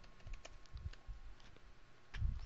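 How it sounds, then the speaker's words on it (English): Light, scattered keystrokes on a computer keyboard as a terminal command is typed, quiet and close, with a firmer press near the end and no talking. "So in the terminal, type the following."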